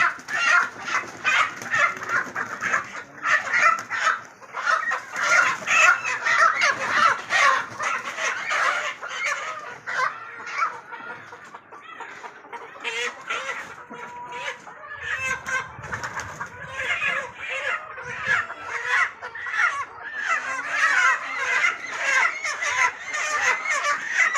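Many desi country chickens cluck and squawk continuously in a dense, noisy chorus as a vehicle is unloaded, with occasional louder calls and a faint crow rising above the flock.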